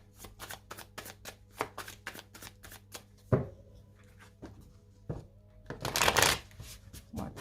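A tarot card deck is cut and shuffled by hand, producing a quick run of close, crisp card flicks and riffles, a pause with soft handling noises, then a louder riffle burst.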